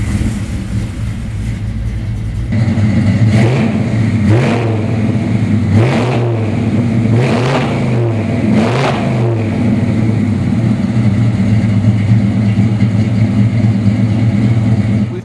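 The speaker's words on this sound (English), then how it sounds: "So how about I stop rambling and start this thing." A 1969 Ford Mustang Boss 302 pro touring car's engine cranks and catches, then settles into a loud, lumpy idle punctuated by four sharp throttle blips, close by and alone.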